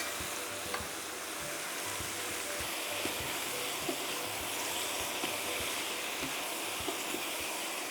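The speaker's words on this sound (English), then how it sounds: "Just going to brown the onions a little bit" Onions browning in a pot for zuurvlees, a Limburg tangy beef stew, giving a steady soft sizzle and hiss with occasional faint clicks of stirring, even and unbroken, with no talk.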